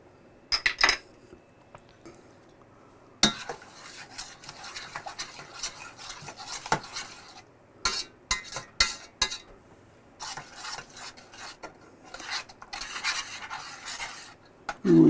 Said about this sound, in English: And we constantly stir it for 10 to 12 minutes.